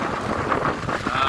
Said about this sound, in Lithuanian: Vėjas yra geras.